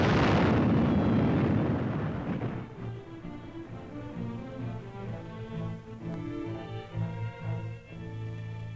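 An explosive charge blasts away an overhanging section of an Arctic ice cliff, a heavy booming roar at the start that decays into a low rumble, with orchestral music carrying on afterward.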